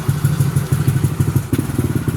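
A modified Yamaha Nmax V2 scooter's engine runs close by, a loud, rough, pulsing idle with rapid rhythmic thumps and a slight change in tone partway through.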